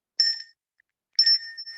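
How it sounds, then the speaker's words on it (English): A small bell is tapped twice during a virtual Toastmasters meeting to mark a speaker going over time. Each ding is clear, bright and ringing, heard on its own with a short silence between the strikes. "if you go over time, all I'm going to do is hit the bell"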